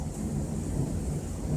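Thunder from a thunderstorm rumbles as a steady, low, broad roar throughout, fairly loud with no voices.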